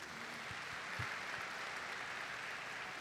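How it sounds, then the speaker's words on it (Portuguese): Steady applause from an audience welcoming a lawyer to the stage at a church-style testimony event, faint and continuous for the whole stretch with a few louder claps near the start. "vamos recebê-lo com a salva de palmas"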